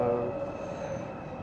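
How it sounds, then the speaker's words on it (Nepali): A train arriving in Korea rumbles steadily nearby with a low mechanical drone and a faint high whine, fairly constant in loudness. "आइसक्यो हाम्रो छिटो छिटो चढ्ने ट्रेन"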